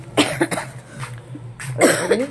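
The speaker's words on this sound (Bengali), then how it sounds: "বাড়িতে আস্তে আস্তে আমার কাশি শুরু হয়ে গেছে" Harsh, close coughing comes in several repeated bursts, with short pauses between fits and a heavier run of coughs near the end.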